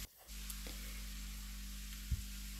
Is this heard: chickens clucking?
no